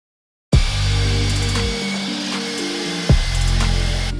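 Power saw cutting through thick walnut hardwood slab, just over two inches thick, a loud steady whining cut that drops briefly near the middle then resumes at full load, with no talking.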